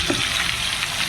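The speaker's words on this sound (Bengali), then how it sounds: "আর এদিকটাতে আলু ভাজছি।" Potatoes fry in oil over a gas stove at a village home, a brief steady sizzling hiss heard up close without speech.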